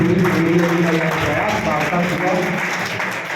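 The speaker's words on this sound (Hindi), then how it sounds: "इसलिए आप तालियां बजाएं" An audience at a Hindi poetry gathering claps in sustained, dense applause, loud and close, with a crowd murmur mixed into the clapping.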